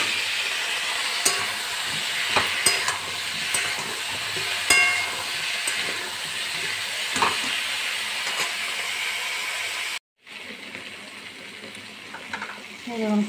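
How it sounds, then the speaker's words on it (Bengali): Pumpkin, potato and tomato fry in a pan with garlic, onion and green chilli, giving a steady close hiss broken by spatula scrapes and clicks, then a brief silence and a quieter sizzle. "কুমড়ো আলু টমেটোটা ভাজা হয়ে গেছে।"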